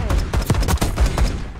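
Rapid automatic gunfire in a Call of Duty match, a tight burst of close, loud shots in quick succession with sharp cracks and deep thumps.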